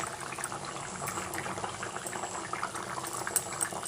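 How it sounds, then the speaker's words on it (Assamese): A pot of cauliflower curry vegetables simmering on the stove, a steady close bubbling and hissing boil with small pops throughout. "এয়া সবজিখন হৈ গ'ল ধুনিয়াকৈ উতলি আহিছে"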